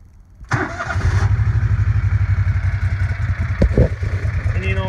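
A 2008 John Deere Gator 620i fuel-injected utility vehicle engine cranks briefly, fires up loudly and settles into a steady, close, rhythmic idle that runs on to the end.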